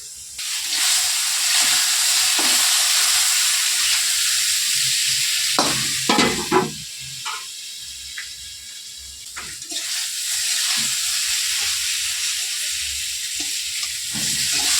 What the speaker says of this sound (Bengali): ঢেকে ঢেকে কষিয়ে নেবো তরকারিটা